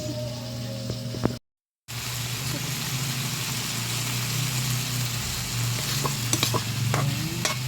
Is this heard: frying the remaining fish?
yes